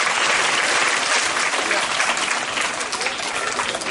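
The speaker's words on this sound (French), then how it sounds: "On applaudit pour lui." Loud, dense applause from a crowd of primary schoolchildren at a donation ceremony in Garoua, a continuous roar of many small hands clapping close and unbroken throughout.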